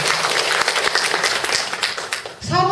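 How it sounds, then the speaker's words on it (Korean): Audience applause at an Inchon volunteer fire brigade lecture competition, dense clapping filling the room for about two seconds before a voice resumes near the end. "박수 한번 쳐주세요"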